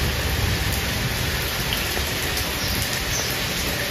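Heavy rain pours steadily and loudly as a dense, unbroken hiss with no pauses, and no voices are heard.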